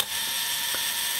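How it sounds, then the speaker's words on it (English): The self-timer of a Minolta SRT 202 35mm film SLR whirs steadily as its mechanism runs, a continuous close buzzing hum with one faint tick partway through. "we can initiate the timer by just pushing that little button down right there, and we can see that the timer is running smoothly"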